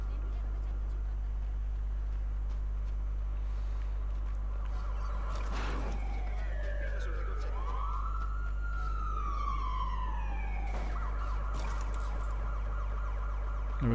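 A police siren wails in the video game Watch Dogs 2, rising and falling in a few sweeping tones over a steady low hum and background game noise, moderately loud and clear for several seconds.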